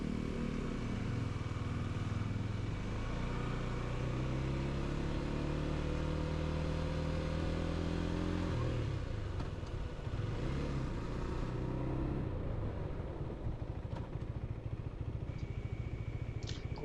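Steady low engine drone of a Husqvarna Svartpilen 401 motorcycle being ridden, with rising rev tones early on, then a rougher rumble and wind noise continuing throughout, close and loud.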